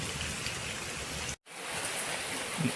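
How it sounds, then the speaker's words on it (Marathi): Heavy monsoon rain pours steadily in a Konkan village, a dense, even hiss of downpour close by that breaks off for a brief instant before resuming. "जोरदार पाऊस आहे"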